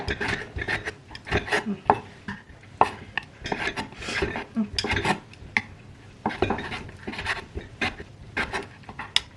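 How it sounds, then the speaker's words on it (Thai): Knife cutting through grilled pork on a board, served Isan style with sticky rice: repeated scraping, tapping strokes of the blade against wood and some clatter of dishes and utensils, close and steady, with no talk. "หั่นแบบนี้ไปจ้าทุกคน"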